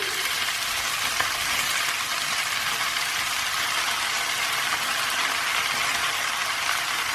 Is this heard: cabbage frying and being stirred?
yes